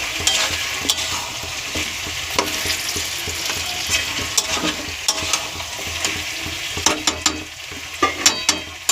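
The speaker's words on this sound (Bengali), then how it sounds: "এরপর ভালো করে মশলাটাকে মাংসের সঙ্গে মিশিয়ে নেব" A blended spice paste is stirred into chicken in a hot frying pan, with a constant sizzle and repeated sharp scrapes and taps of the spatula that grow more frequent near the end.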